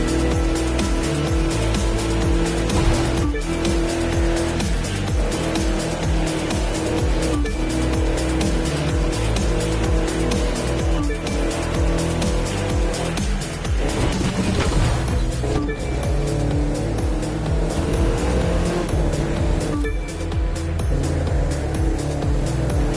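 Cars race at breakneck speed in The Crew 2 through stormy, windy weather, a dense, continuous engine roar with steady loudness and occasional tire squeal across the whole stretch.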